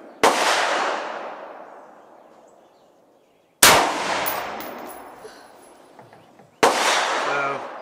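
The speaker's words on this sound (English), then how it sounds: "Let's go ahead and fire off that last one." Gunshots fired at a range during a recoil and double-tap comparison of cheap and expensive handguns, three separate loud close cracks spaced a few seconds apart, each ringing out into a long decaying echo.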